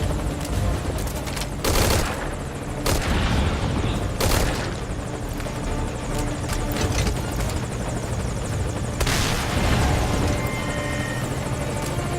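Rocket explosions and gunfire around an anti-aircraft gun in Metal Gear Solid V: Ground Zeroes, several loud booms and bursts over a constant helicopter rotor drone, heavy and continuous, with no talk.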